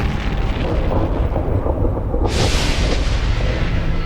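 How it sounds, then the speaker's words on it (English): A colossal asteroid impact explosion, from a roughly 10-kilometre asteroid striking Earth in the Yucatan Peninsula, sounds as a continuous loud roaring rumble that swells into a harsh, bright blast partway through, with no voices. "The impact produced an explosion of gigantic proportions"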